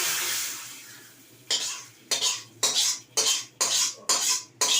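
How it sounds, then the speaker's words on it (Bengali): A burst of loud sizzling as hot oil tempering hits raw mango dal in a kadai, then a series of rhythmic stirring splashes and scrapes, close and repeated about seven times. "এই ফোড়নটা দিয়ে দেবো ডালের"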